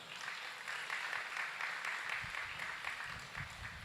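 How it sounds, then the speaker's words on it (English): A crowd applauds steadily throughout at an International Youth Day event, a dense wash of clapping heard from some distance with no pauses. "This side, a round of applause for yourselves."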